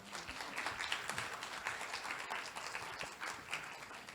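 Audience applause at a Korean research information forum after a guest speaker's presentation, a steady wash of many hands clapping in a hall, moderate and even throughout.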